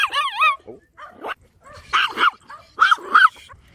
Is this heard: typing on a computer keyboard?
no